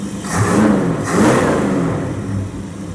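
A 1929 Chrysler fitted with a 360 engine and an Edelbrock AFB carburetor, after a rich-running fault was fixed, revs twice in quick swells and settles back toward a smooth idle, heard up close.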